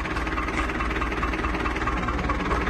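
A 1966 Nuffield small tractor engine idles steadily, a low rumbling chug with constant vibration and no change in pace, close by and fairly loud throughout.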